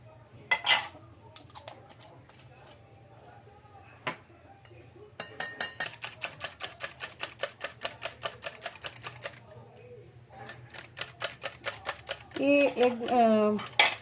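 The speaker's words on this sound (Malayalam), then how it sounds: "വാനില എസൻസ് ചേർത്ത് നമുക്ക് അതും കൂടെ ഒന്ന് ബീറ്റ് ചെയ്യാം കേട്ടോ" Plum cake batter with vanilla essence being beaten in a bowl, heard as bursts of rapid, close clicking and tapping of a whisk against the bowl, broken by pauses and quiet spells.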